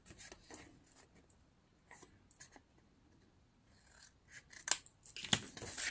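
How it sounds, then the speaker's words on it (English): Scissors snipping the corners off a paper tag during a craft project, a run of short crisp cuts that grows louder and busier toward the end, heard up close with no talking. "I'm gonna distress the edges using my scissors"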